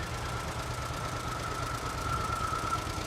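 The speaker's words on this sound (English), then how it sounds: "Next up, we have Weston Haller on his 1958 John Deere Veggie Special." A 1958 John Deere tractor in a fair parade runs with a steady, low, knocking putter that holds at an even, moderately loud level throughout, with no voices over it.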